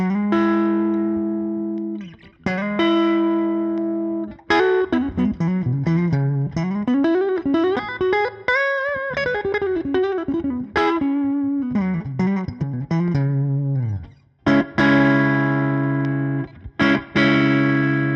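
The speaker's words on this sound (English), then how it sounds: "the neck pickup and then the out of phase neck pickup sound" Electric guitar on its out-of-phase neck pickup plays sustained chords and a melodic run of single notes, with a nasal, thin, somewhat hollow tone. Clear and close, no talking.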